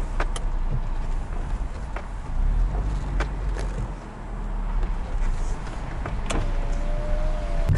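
Electric power windows in a taxi whir open over steady road rumble from the moving car, with a few faint clicks and a brief motor hum near the end.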